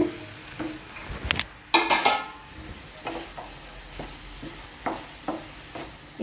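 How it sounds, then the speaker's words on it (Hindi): Spiced vegetables and tomatoes for sambhar being stirred in a pan, with scraping, clinking spoon-on-metal strokes and a soft sizzle underneath, loud and close, repeating irregularly. "इनको बिल्कुल अच्छे से मिक्स कर लेंगे।"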